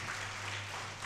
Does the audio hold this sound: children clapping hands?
yes